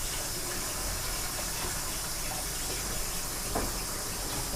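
Water runs steadily into a 5-gallon bucket, a constant broadband rush for several seconds, close and fairly loud with no talk.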